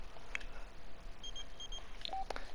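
A phone in The Sims 4 gives off a few short, thin electronic beeps scattered over a low hiss of game ambience, separate chirps rather than a steady tone.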